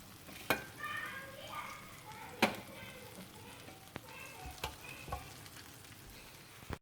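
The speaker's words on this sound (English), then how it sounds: "what we're gonna do now is put some of them on the frying pan" Red pine mushrooms frying in butter in a frying pan give a soft, steady sizzle, broken by a few sharp clicks and knocks of handling at the pan.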